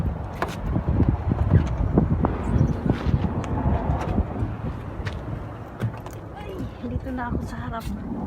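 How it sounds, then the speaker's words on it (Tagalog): Gusty outdoor wind buffets the microphone in continuous rumbling bursts, with vehicle and door noises and speech mixed in. "Mahangin sa palabas."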